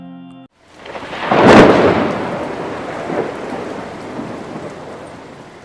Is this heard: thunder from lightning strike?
yes